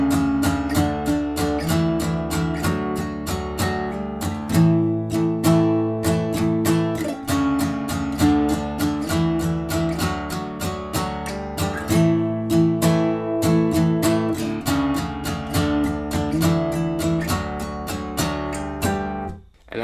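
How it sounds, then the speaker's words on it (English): Acoustic guitar strums the pre-chorus of a song in a steady, driving rhythm of full chords with octave riff parts. The playing is loud, close and continuous, with no voice over it. "So the full pre-chorus should sound something like this."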